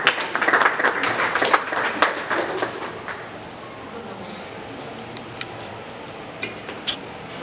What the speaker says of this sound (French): Nous l'encourageons par vos acclamations.